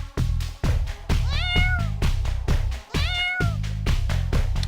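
A cat meows repeatedly over steady rhythmic dance music with a heavy beat, its rising and falling calls coming in short bursts close to the microphone.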